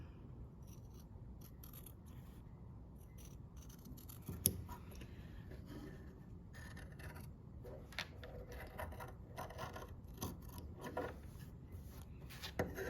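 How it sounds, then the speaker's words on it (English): Soft rhythmic snipping of Gingher spring-loaded scissors through fabric, close by, with a sharper click near the start and low rustling throughout. "I'm gonna take my scissors. These are Gingher spring-loaded scissors."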